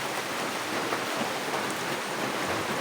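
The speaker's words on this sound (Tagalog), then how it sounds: "Laksang ulan." Heavy rain on an island during a storm alert, a dense steady hiss of pouring water that stays loud and unbroken throughout, with no voices.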